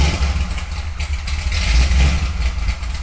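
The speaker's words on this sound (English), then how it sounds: "remember it has a big cam in it, so that's why it sounds very blah blah blah" A Corvette Z06 fitted with a big cam idles roughly nearby, a loud, lumpy low rumble with uneven pulses and a clattery edge, with no talking.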